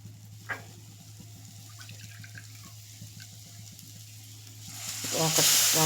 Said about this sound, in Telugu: ఇది నేను ఒక 2 కప్స్ పైనే వాటర్ పోస్తాను